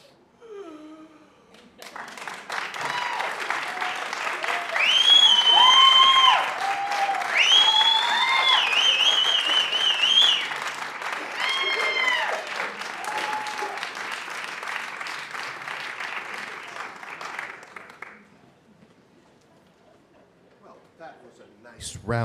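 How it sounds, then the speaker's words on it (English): An audience applauds at the end of a community theatre festival show, a long sustained wave of clapping with cheers and whistles over it that rises, holds, then fades out into quiet. "That was a nice round of applause."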